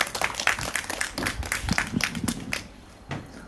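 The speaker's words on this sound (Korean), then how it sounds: "모두 큰 박수로 맞이해주시면 고맙겠습니다" Outdoor candlelight rally crowd clapping to welcome the next speaker, a dense, steady patter of many hands that thins out toward the end.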